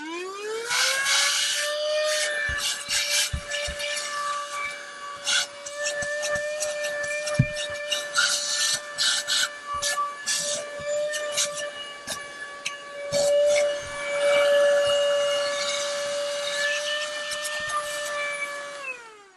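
Dreamiracle handheld cordless vacuum running continuously as it cleans debris out of a car seat gap, a steady high motor whine with overtones, punctuated by rattling clicks and thumps of debris and nozzle contact.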